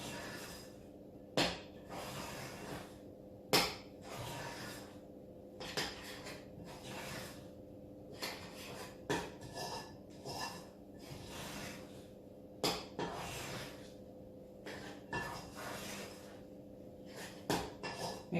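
A spoon scrapes and knocks around a bowl while stirring buttery, sugary muffin batter, with soft rubbing strokes and occasional sharp clinks against the bowl's sides, close and quiet.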